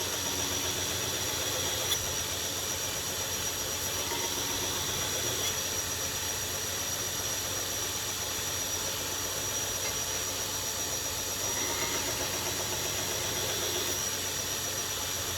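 A belt grinder working a handmade knife blade, a steady high whining hum with a continuous abrasive hiss, loud and close, running unbroken with slight variations as the blade is pressed to the belt.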